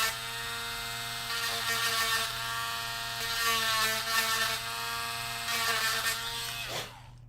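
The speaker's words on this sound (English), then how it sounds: "So I just sanded down the inside just a tad." A small powered tool sanding down the inside of a broken part, a continuous close high-pitched whir with a steady buzzing tone that swells slightly a few times and winds down at the end.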